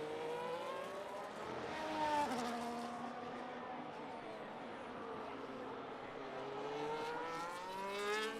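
Simulated F1 race car engine noise from a racing video game during a league race in Australia, with rising and falling engine pitch across several gear changes at moderate volume.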